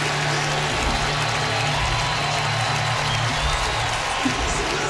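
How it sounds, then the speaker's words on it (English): A football stadium crowd at Kentucky during Mississippi State's visit roars steadily in a broad, loud wall of noise that holds for several seconds, with a faint low hum beneath. "Now let the crowd really roar."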